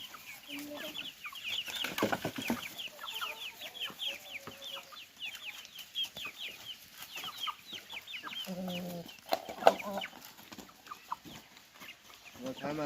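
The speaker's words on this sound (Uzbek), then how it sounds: "Bu katta xo'rozimiz." A large rooster clucks in short, repeated bursts alongside other chickens. The calls are faint and somewhat distant, scattered across a quiet farmyard background with occasional murmured talk.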